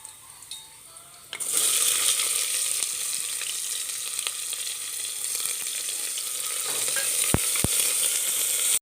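Chopped onion added to hot oil with ginger and garlic for a vegetable kurma, the quiet start jumping into a loud, steady sizzle that holds to the end, with two sharp clinks near the finish.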